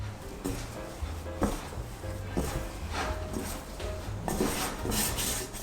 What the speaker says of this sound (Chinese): 就把面粉搅拌成絮状之后，简单的揉一揉